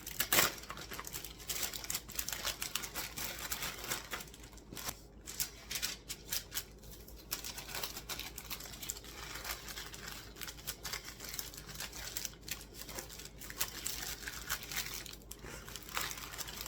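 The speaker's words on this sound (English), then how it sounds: "Just wax paper." Food is wrapped in wax paper for the freezer, with continuous crisp crinkling and rustling close by, in irregular bursts over several seconds.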